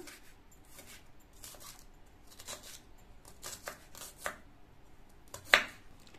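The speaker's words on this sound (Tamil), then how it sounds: "அடுத்து இந்த ஆனியனையும் கட் பண்ணிக்கலாம்." A knife slices through spring onion in quick, close-up strokes, crisp chopping cuts coming in uneven clusters with brief pauses, one sharper cut near the end, and no talking.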